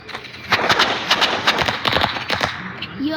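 Gunfire in the video game Rivals: rapid, irregular bursts of close, sharp shots crackle over a dense, noisy game soundscape for about three seconds.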